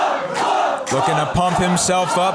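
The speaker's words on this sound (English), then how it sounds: "getting those chants from the crowd to fuel him" A wrestling crowd at a tag-team championship chants in a loud, steady rhythm of repeated shouted syllables, with a commentator talking over it.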